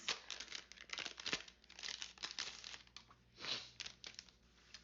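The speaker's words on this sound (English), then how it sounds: "so let's flip through some stickers" Sheets of coloring-book floral stickers rustle and crinkle as they are flipped through, a soft continuous papery shuffle with small bursts, close and fairly quiet, with no talking.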